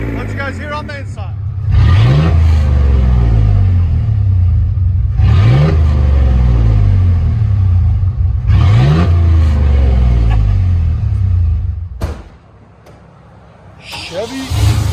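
Cabin view of a 1995 Chevy 1500 with a 4.3L V6 and a Vibrant bottle resonator exhaust: three loud revs swell and fall in steady succession, a deep droning rumble filling the interior, then the engine drops to a quiet idle before picking up again.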